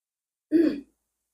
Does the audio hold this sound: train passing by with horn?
no